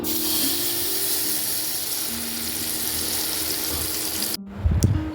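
A paste of pointed gourd, nigella seeds, chili and garlic fries in hot oil with a steady, even sizzling hiss, then cuts off abruptly and gives way to a short clatter near the end.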